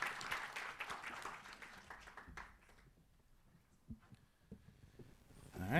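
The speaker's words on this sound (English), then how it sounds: "Round of applause." Audience applause at a startup demo day, a dense burst of clapping that thins and fades within a few seconds, leaving a near-silent room with a few scattered claps and small noises.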